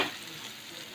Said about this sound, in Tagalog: Itong pabuton nga brown ang bumbay mga kapapa.